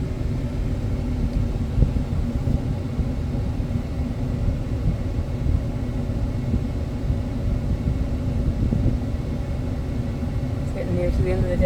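A 2015 Ram 1500 pickup truck drives along a road at end of day, its engine and road rumble forming a steady low drone throughout with no speech.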